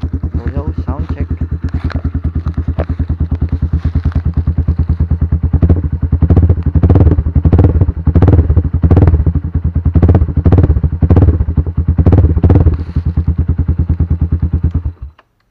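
A Rusi Classic 250 motorcycle, about a year and a half old, idles loudly up close with a steady thumping beat. Several revs swell in the middle before the engine cuts off at the end.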